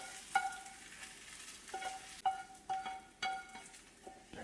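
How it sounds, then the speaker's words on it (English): Food sautéing in a pan for a meatloaf recipe, with soft sizzling under sharp scrapes and stirring clatters of a utensil against the pan, quiet and close. "Sauteing"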